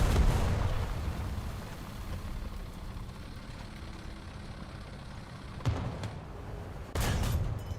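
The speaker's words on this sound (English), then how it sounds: "I think that's my artillery strike." An artillery strike in War Thunder: a deep rumbling blast at the start fades into low battlefield noise, followed by two sharper booming impacts near the end, with no talk.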